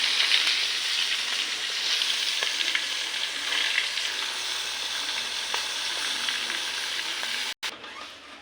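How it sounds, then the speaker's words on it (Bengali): Fish frying in hot oil gives a constant, close, hissing sizzle with faint crackles, holding steady until a brief cut near the end. "মাছগুলো ভাইজা নিলাম"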